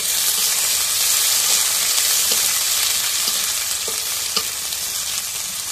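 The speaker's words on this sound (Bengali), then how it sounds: "এখন মরিচ পেঁয়াজ ভাজা হয়েছে" Chopped green chillies and onions frying in oil, a loud, dense, unbroken sizzle up close with occasional soft scrapes of stirring.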